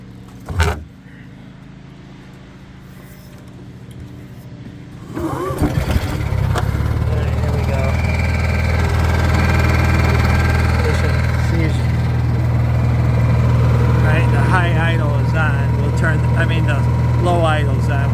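Honda EU7000is inverter generator for an RV, pull-started: a sharp thud early on, a cranking rattle around five seconds, then the engine catches and runs with a steady hum and faint voices underneath.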